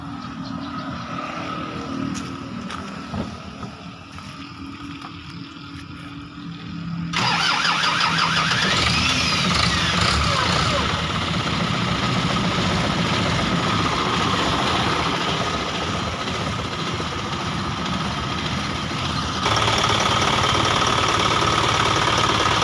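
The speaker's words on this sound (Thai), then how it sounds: "เดี๋ยวจะสตาร์ทเครื่องให้ฟังครับ ว่าว่าเครื่องยนต์อยู่สภาพกี่เปอร์เซ็นต์นะครับ" A 1998 Nissan pickup truck engine cranks and catches, then settles into a steady, loud idle with a mechanical rumble that continues to the end.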